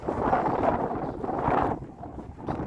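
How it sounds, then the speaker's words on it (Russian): Strong spring gusts of wind at a dacha buffet the microphone in loud, rumbling surges that rise and ease over a few seconds. "Тут такой ветер сильный."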